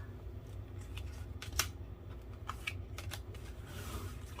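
Tarot cards being shuffled and drawn at close range, with quick crisp snaps and soft slides between quieter rustling and no speech.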